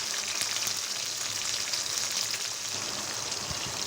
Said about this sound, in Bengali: তারপরে কিছুটা পেঁয়াজ বাটা দিয়ে দিচ্ছি আমি